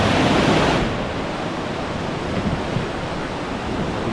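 Clean river stream in Tibiao, Antique flowing steadily, a broad continuous rushing wash of water that swells briefly at the start and then settles into an even, close, unbroken roar with no voices.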